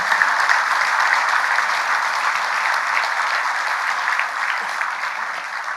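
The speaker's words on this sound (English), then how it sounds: "I think that one deserves a round of applause." Audience applause at a school awards evening for Year 7 to 10 students, a steady, dense wash of clapping from a large crowd that holds evenly for several seconds and eases only slightly toward the end.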